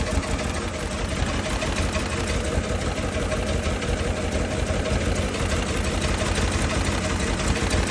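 2008 Ford Expedition engine running rough as if misfiring, a loud, continuous, close engine drone with a fast ticking, uneven pulse throughout.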